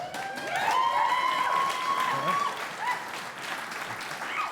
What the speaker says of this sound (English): It didn't say pause for applause, but I guess I should have.